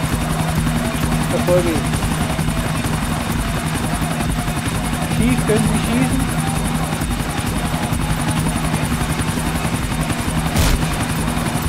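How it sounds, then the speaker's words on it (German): A helicopter in the GTA IV video game drones steadily throughout, a continuous rotor buzz that holds at the same level for the whole stretch, with excited voices talking over it. "Er will flüchten mit dem Hubschrauber."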